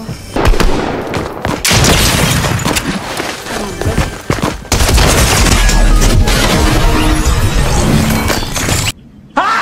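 Rapid gunfire and explosive booms from a Fortnite battle royale match on mobile, dense and loud through most of the stretch, with a player talking over the shooting and a brief drop-out near the end.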